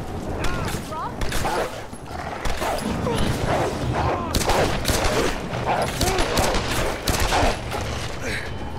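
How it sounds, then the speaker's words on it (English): Gunfire in the Tomb Raider video game, with repeated bursts and rapid volleys of shots, loud and close alongside crashes and thuds, while voices talk over the action. "Oh, gunfire."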